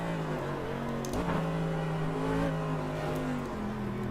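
Porsche race car engines in iRacing drone steadily, with pitch rising and falling as the cars accelerate and shift, loud and continuous throughout.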